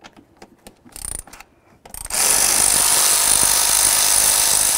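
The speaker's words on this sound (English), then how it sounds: "I'll remove the three mounting nuts" Someone works loose the three throttle body mounting nuts on a 2003-2007 Chevy Silverado. A few sparse ratcheting clicks come first, then a loud, continuous power-tool whir runs close up to the end.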